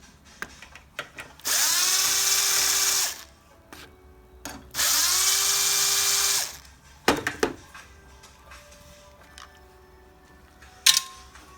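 A cordless screw gun whirs in two steady bursts of about two seconds each, driving fasteners on a used lawn mower being prepped for sale, with light clanks and handling noises in between.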